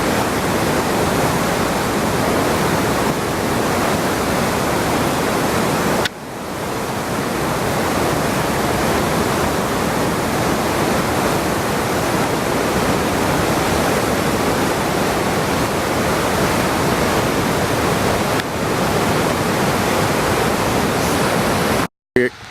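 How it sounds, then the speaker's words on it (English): Fast-moving Ausable River water rushing in spring flow, a loud steady broadband roar close by that fills the whole stretch, with a brief dip partway and a cut at the end. "This water is really moving."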